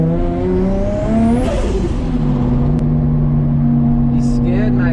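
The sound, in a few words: Nissan R33 RB25DET engine revving on touge run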